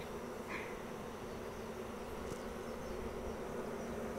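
Honey bees buzz steadily on a hive frame during a colony inspection, a soft continuous insect drone with no talking.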